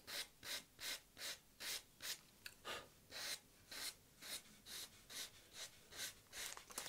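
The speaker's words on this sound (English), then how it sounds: "I'm just lightly sanding that out" Sandpaper lightly works over the lacquer finish of a purple-dyed guitar: about a dozen faint, close rasping strokes in an even back-and-forth rhythm, each a soft scratchy swish.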